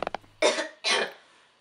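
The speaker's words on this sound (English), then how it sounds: "Cough incredibly loudly to hide the sound." Two loud, harsh coughs burst out close to the mic in quick succession after a few short sharp sounds, the second trailing off into a breathy fade.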